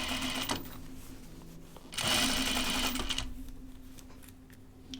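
A sewing machine stitches over perpendicular pins while sewing a Carolyn pajama top, a steady whirring run with a louder burst in the middle, heard close up.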